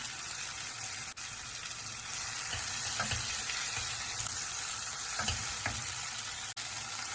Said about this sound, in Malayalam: ഇപ്പോൾ നമുക്ക് ഇതിലേക്ക് ചിക്കൻ മാരിനേറ്റ് ചെയ്ത് വെച്ചിരിക്കുന്ന ചിക്കൻ ഇടാം